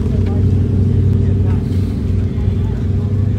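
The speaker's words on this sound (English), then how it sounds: "What is up with a Tesla that sounds like it's got loud exhaust system?" A Tesla fitted with a loud aftermarket exhaust at a Supercar Sunday car meet, giving a steady, close, droning engine-like rumble under crowd murmur.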